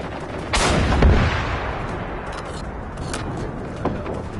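Sniper rifle gunfire in a video game: a loud, booming shot followed by a long rumbling tail and a faint second report, with no talking.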